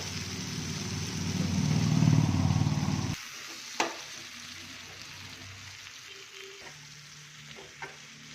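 Paneer Kolhapuri masala frying in oil with turmeric, a loud close sizzle for about three seconds that drops to a quieter simmer with a few sharp clicks and scrapes.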